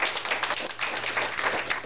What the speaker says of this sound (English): Let's give the young people another round of applause.